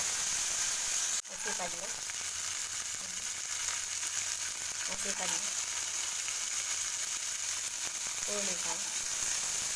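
Mustard seeds, cumin, peas and carrots frying in a pan with a little oil, a loud constant sizzle with small pops throughout, while a voice talks over it.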